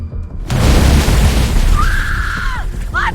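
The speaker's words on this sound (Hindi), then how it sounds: "तेल इतना ज्यादा गर्म हो गया कि वो विस्फोट के साथ श्यामा के चेहरे और हाथों पर उछल पड़ा।" Overheated frying oil explodes: a sudden loud boom bursts in after a quiet start, then rumbles on, with a short high-pitched cry rising over it near the end.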